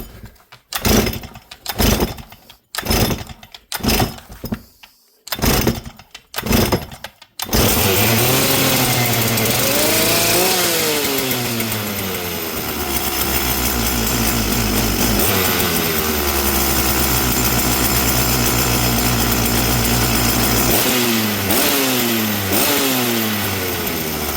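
A chainsaw that is hard to start is pulled several times in quick bursts, then catches and runs loudly, revving up and settling into a steady idle with occasional throttle blips, close up throughout.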